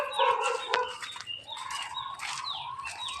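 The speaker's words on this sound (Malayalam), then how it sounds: "ഇവിടെയാണ് കോഴിയുള്ളത്." Backyard chickens beside a pond cluck and call in short, nearby bursts, with a few higher squawks rising and falling over a quiet outdoor background.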